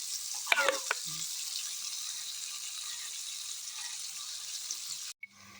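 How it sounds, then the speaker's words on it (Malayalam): Aloe vera boils in coconut oil for homemade hair oil, a steady bubbling sizzle after a few sharp clinks near the start, then an abrupt stop and a brief knock at the end. "അപ്പോൾ നമ്മുടെ കട്ടാർവാഴ നന്നായിട്ട് തിളക്കിയിട്ടുണ്ട് കേട്ടോ"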